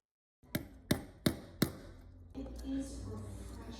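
Four sharp metallic hammer taps on a watch bracelet pin at an even pace, close and crisp, followed by low muffled handling noise.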